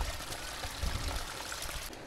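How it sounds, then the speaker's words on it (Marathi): Water pouring down from above onto a steep rock face on a monsoon trek to Kohoj fort near Palghar, a steady near splashing rush that holds fairly even throughout, with no talk. "हे वरून पाणी पडतं आहे ह्या कातळावर"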